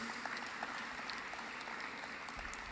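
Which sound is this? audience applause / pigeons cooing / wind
audience applause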